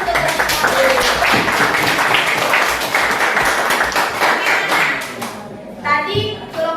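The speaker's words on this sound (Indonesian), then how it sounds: "Kita beri tepuk tangan untuk" A class of students claps for the first group in a lesson, steady scattered handclaps filling the room for about five seconds with children's voices chattering underneath, then the clapping stops and a voice speaks briefly.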